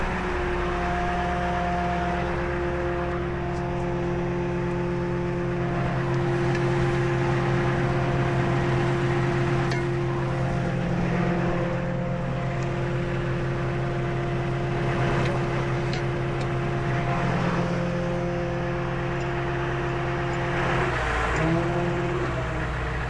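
A tow truck lifts a classic car off the ground from the front using wheel dollies, its engine and hydraulics producing a steady, droning hum with a low tonal whine, continuous and moderately close, with faint clanks.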